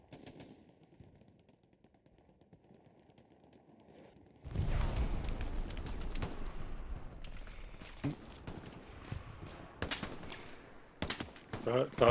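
Machine gun fire in the WWII shooter Hell Let Loose bursts in after a quieter spoken stretch, then rattles on in loud, rapid volleys mixed with sharp individual shots and distant booms.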